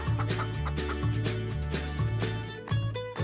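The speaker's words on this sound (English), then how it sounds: "This is the chicken coop." Cartoon chickens clucking at a coop in a Paw Patrol video game, a run of rhythmic repeated clucks and short squawks stepping up and down in pitch, close and loud with a bright game-style tone.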